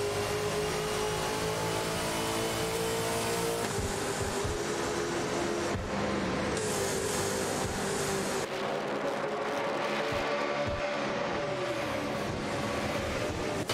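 AI-driven Holden Commodore ZB and Nissan Altima race cars in a video game race roar steadily, their engine notes rising and shifting as they battle wheel to wheel, loud and continuous with no talk.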